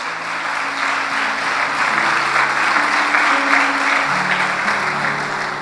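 Sustained applause from a church congregation at a worship service, steady and fairly loud for several seconds, with a low musical drone underneath.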